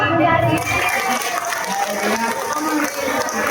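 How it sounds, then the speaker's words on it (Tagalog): Audience at a people's association orientation applauding in a hall, a sustained wash of clapping with a voice speaking over it. "Isa pa nga po palakpak."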